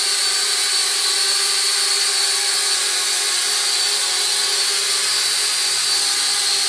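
Holy Stone HS160 drone hovers indoors, its propellers giving a loud, constant high-pitched whine that holds steady with no talking.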